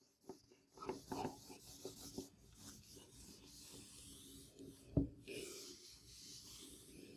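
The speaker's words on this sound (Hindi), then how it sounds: "इतना मैं रब कर दूं, 1 मिनट" Writing being rubbed off a classroom board in brisk scraping strokes, faint and close, followed by a single sharp knock and a softer lingering rub.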